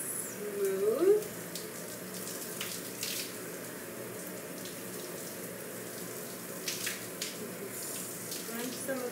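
Water runs steadily from a shower or tap while conditioner is rinsed out of natural hair, a soft continuous splashing hiss with a brief louder gush near the start.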